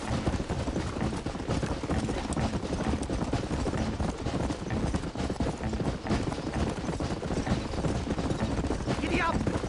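A horse gallops in the video game Red Dead Redemption, with dense, rapid hoofbeats under a loud, busy game soundscape that fills the whole stretch. Voices are mixed in.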